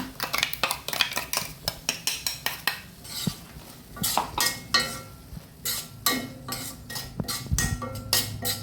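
A spoon stirring moringa chicken masala in a metal cooking pot makes repeated scraping clinks and clatters in an irregular rhythm, close and fairly loud.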